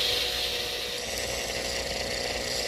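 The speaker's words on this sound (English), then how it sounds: "the original contour that existed in wax is reestablished with this highly abrasive" A highly abrasive disc grinds against a metal casting to reshape it, giving a steady high-pitched whirring hiss that carries close and continuous throughout, with no talking.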